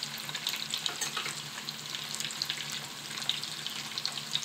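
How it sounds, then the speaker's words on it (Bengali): Taro chunks fry in hot oil over medium heat, a steady, soft crackling sizzle with tiny pops scattered throughout and no one speaking. "মিডিয়াম হিটেই আমি কচুটা ভেজে নিচ্ছি।"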